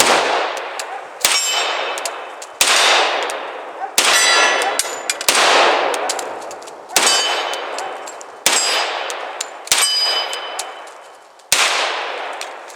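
A .45 pistol fires repeatedly at a small swinging steel target, with about nine sharp shots, each followed by a bright ringing clang that decays over roughly a second. The shots are loud and close and come at an uneven pace.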